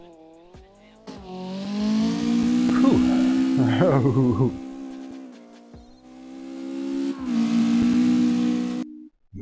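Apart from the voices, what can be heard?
car engine revving and tire squeal in CarX Drift Racing video game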